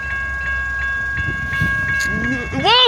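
A CSX freight train at Stearns Road on the Saginaw subdivision rolls past with a steady low rumble and rail noise, while a crossing bell rings repeatedly nearby and a voice speaks over it.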